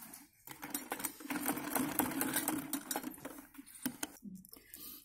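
A sewing machine stitches a salwar in a fast, steady mechanical whir with rapid needle ticks, stopping briefly and restarting in short runs, fairly close and moderately quiet.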